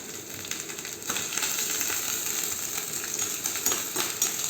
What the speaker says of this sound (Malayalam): ഇനി നമുക്ക് കടുക് പൊട്ടിക്കാം